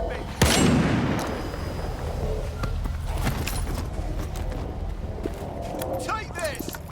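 Gunfire in STALKER 2: Heart of Chornobyl, opening with a loud sharp shot followed by a sustained roar of battle noise and scattered further reports, with voices speaking over it.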